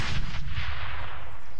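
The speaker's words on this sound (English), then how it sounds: "He actually threw a grenade." A grenade detonates in a video game firefight, a loud low boom with a few quick bursts up front that rolls off into a long fading rumble.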